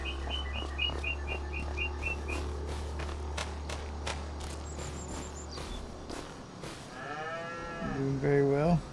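Cows mooing on a snowy winter farm in a long drawn-out low call near the end, after a stretch of steady background hum and scattered bird chirps.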